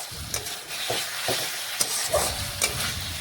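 Spice masala for a fish curry with eggplant frying in oil in a pan, a steady hiss and sizzle broken by a few spatula scrapes and taps, close and fairly loud.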